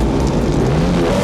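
A motorcycle ridden by Jean-Claude Van Damme in the 1993 film Hard Target roars past with a continuous loud engine drone, sustained and close, with no pause across the short burst.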